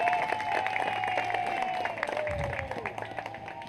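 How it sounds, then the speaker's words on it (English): Round of applause from guests at a Fourth of July picnic party, moderate clapping under a voice that keeps talking over it, the clapping thinning toward the end. "If we could all give them a round of applause,"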